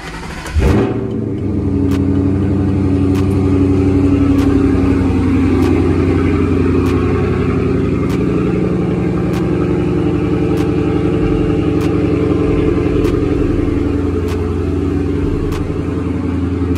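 A 2011 Ford Mustang GT V8 cold-starts outdoors: a sharp crank-and-catch burst, then a loud, steady, rumbling idle that holds close and even, with a faint regular ticking repeating in the background.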